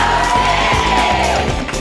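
A lively crowd cheers and whoops throughout, with yells and shouts filling a dense, steady roar at close range; some speech-like voices blend into the noise.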